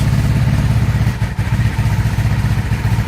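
A 1996 Honda Magna motorcycle engine runs close by at a loud, steady idle with a throbbing rumble and one brief dip partway through.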